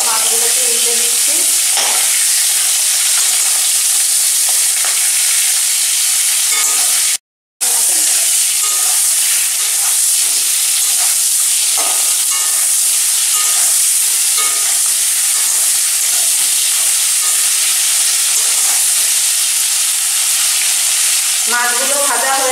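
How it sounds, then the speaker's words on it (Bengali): Prawns (galda chingri) frying in hot oil in a home kitchen, a steady close, loud sizzle running throughout with brief stirring and flipping clatter, one short dropout partway through. "একটি ভাজা হয়ে গেছে, আমি এবার মাছগুলোকে উল্টে দিচ্ছি।"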